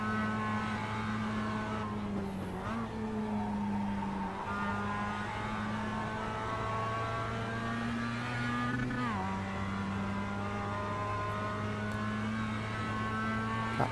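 Mazda MX-5 race car engines in the iRacing Global Mazda MX-5 Cup at Oulton Park hum loud and close, a steady drone with pitch shifts as the cars shift gears and rev.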